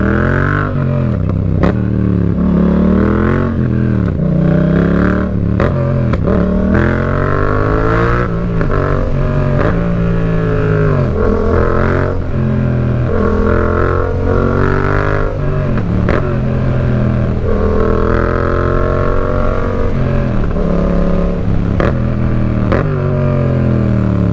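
Two identical motorcycles, a Honda Africa Twin and a Yamaha MT-07, one fitted with a Black Widow exhaust and the other with an Akrapovič, rev and accelerate loudly up close. The engine pitch rises and falls repeatedly in rush-hour traffic.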